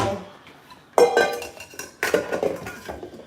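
A big bowl is handled in a kitchen while a seafood boil is being cooked. There are close clinks and clattering knocks of dishes and utensils in two bursts, with quieter rattling in between.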